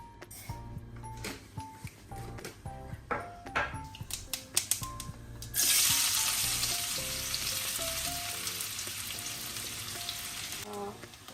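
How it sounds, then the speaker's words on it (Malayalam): Mustard seeds drop into a hot pan for prawn roast, first a run of sharp popping crackles, then a steady loud sizzle of frying under continued sputtering pops. "അപ്പം ഞാൻ കുറച്ച് കടുക് അങ്ങോട്ടിടാം"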